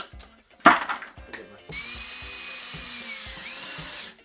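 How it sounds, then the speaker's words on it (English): A power drill bores a flat-bottomed hole into a workbench top with a Forstner bit, whirring steadily for a few seconds after a brief knock and clatter at the start. "Forstner bit with a flat bottom hole."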